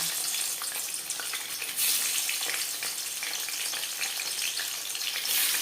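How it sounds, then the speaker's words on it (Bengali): Rui fish frying in hot refined oil, a steady, close, loud sizzle with crackling spatter that swells briefly at moments, no voices. "এবার আমি মাছ ভেজে নেব"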